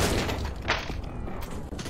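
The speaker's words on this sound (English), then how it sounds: "Watch this. Flash bang." A flashbang grenade goes off in Counter-Strike: Global Offensive. It gives a dense, broadband burst of noise that rings and hisses steadily for about two seconds, with gunfire-like crackle mixed in.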